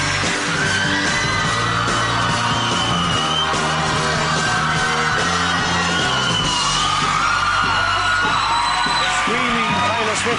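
A live television studio audience of fans shrieks and yells for a guest's entrance on a British chat show, a loud, continuous crowd roar with overlapping whoops and a music band playing under it.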